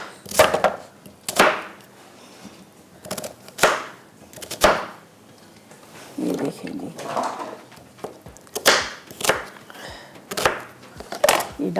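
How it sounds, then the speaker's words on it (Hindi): A knife chops onion, fresh coriander and bread on a cutting board in a series of sharp, irregular close knocks and bursts of rapid chopping, with a voice speaking over parts of it. "पहले थोड़ा प्याज वगैरह हरा धनिया ब्रेड चॉप कर लेते हैं"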